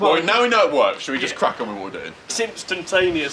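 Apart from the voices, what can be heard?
No everyday noise stands out behind the speech.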